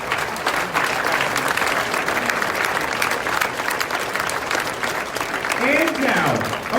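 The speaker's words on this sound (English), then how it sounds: "a big round of applause for our distinguished guest" An audience at a college moving-up ceremony gives a big round of applause, sustained dense clapping throughout with a voice speaking over it near the end.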